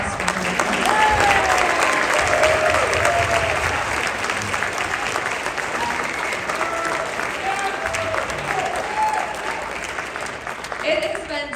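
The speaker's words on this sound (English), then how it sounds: "Can we give a round of applause for her?" An audience at a high school jazz concert gives a long, steady round of applause, dense clapping that slowly thins near the end, with a few scattered cheers and voices.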